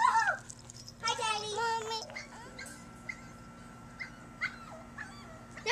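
Six-week-old Wheaten terrier puppies give short high yips and whimpers in a basement, with a burst of several quick cries early on and fainter squeaks later over a low steady hum.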